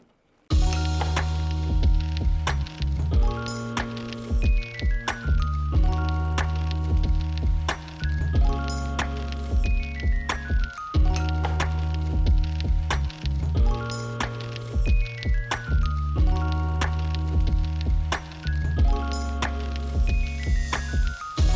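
An embroidery machine stitches a placement line for a mug rug, running steadily and loudly on its own with a dense, repetitive mechanical pulse and no voices.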